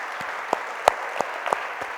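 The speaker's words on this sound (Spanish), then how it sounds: "Démosle un aplauso grande al Señor" Church congregation breaking into sustained applause, a dense wash of many hands clapping with a few sharper individual claps standing out, steady and fairly close throughout.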